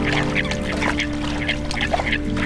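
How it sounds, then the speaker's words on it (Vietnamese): A flock of coots feeds on Lake Constance, giving short, scattered calls and squawks over a steady background of water and hum at moderate distance. "Bầy sâm cầm tìm kiếm rong dưới đáy hồ."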